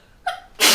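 A single quick sneeze, close and loud: a short sharp inhaled catch followed by an abrupt bright burst of air, with no talking.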